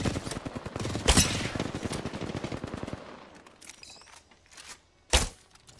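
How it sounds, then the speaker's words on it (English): Gunfire in the battle royale video game Apex Legends, with a dense rapid burst of automatic shots for about three seconds, then a few scattered single cracks and one sharp loud shot near the end. "Taking fire."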